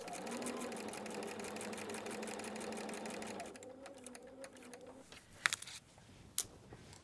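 Sewing machine running steadily while stitching fabric for foundation paper piecing, a rapid close mechanical whir for about three and a half seconds, then slowing and stopping, followed by a few sharp clicks and handling taps.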